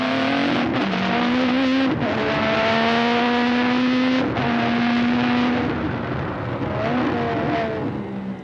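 Onboard a Formula 1 car at Imola, the engine screams as it accelerates uphill over the crest toward Piratella, loud rising tones broken by quick gear shifts, continuous and close.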